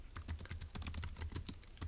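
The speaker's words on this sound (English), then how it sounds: "let's go ahead and type that up" Quiet, rapid clicking on a computer keyboard, a steady run of soft keystrokes with no voice over it.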